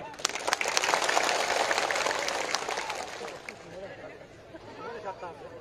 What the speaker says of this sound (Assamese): মাননীয় সভাপতিৰ নামত এটা জোৰকৈ হাত চাপৰি দিব